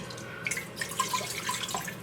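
Water poured from a cup into a cooking pot for meal-prep meat seasoned with salt, cumin and oregano, giving faint scattered drips and small splashes over about two seconds, with no talking.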